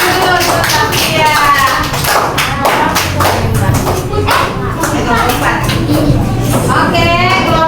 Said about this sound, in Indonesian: Oke, tepuk tangan dulu untuk Nafia.